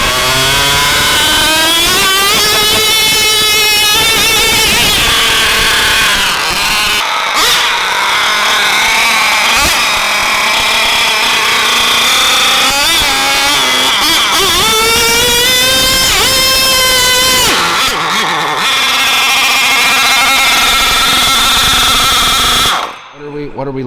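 A nitro RC pulling tractor running four Traxxas 15 engines screams at high pitch while dragging a heavily weighted sled, its whine surging and dropping over several runs with short pauses, loud and close, with voices now and then.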